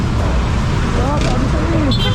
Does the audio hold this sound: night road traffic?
yes